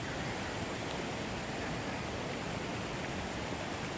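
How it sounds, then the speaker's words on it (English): Hot spring water pours steadily from under the ground beside the Wallibou River on St. Vincent, a continuous close, loud rushing wash with no pauses. "Hot water pouring from under the ground."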